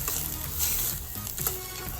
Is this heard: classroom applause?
no